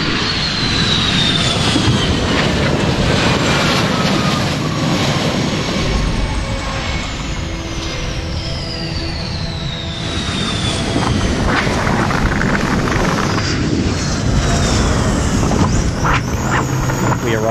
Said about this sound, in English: We had a FA-18 Super Hornet engage the mobile aircraft arrestor system for the first time.